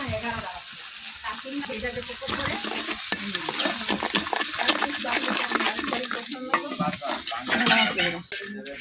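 Spice paste of turmeric, chili and coriander powders with salt being stir-fried in oil for a fish curry: continuous sizzling with frequent spatula scrapes and clinks against the pan, close and fairly loud.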